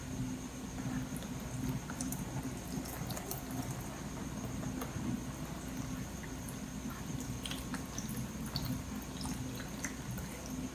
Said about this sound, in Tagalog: magbutang na kog tubig sa imong genitalia